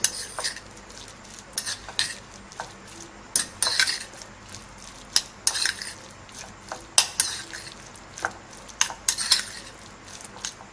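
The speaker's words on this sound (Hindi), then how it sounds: "ये मायोनीज भी डाल रहे हैं। अब अच्छे से इसको हम मिक्स कर लेंगे" Shredded chicken sandwich filling with tomato ketchup and mayonnaise is stirred with a spoon in a bowl, producing close, irregular scraping and clinking strokes with no talking.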